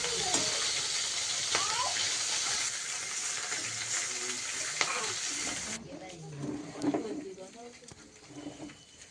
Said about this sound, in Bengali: তো এখন এই মাছগুলো ভেজে নেব